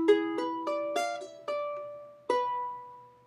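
Charango plucking a phrase from a song in a tutorial. Bright individual notes ring out close and clear in an unhurried rhythm, with the last note left to sustain, and no talking.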